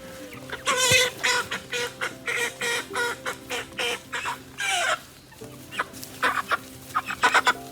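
Chickens at a campsite cluck and squawk in a busy run of loud, close bursts, with a brief lull midway before the clucking resumes.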